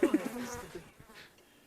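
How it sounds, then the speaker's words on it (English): Bees buzz in the video game Discworld Noir, a soft, thin drone that starts a little stronger and fades to a faint hum within a couple of seconds. "Bees are great."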